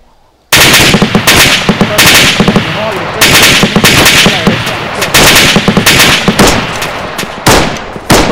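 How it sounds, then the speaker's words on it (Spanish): Machine gun fire in the video game Arma 3, a sudden loud burst of rapid repeated shots that keeps going in dense volleys with brief pauses, very close and dominant. "Disparando."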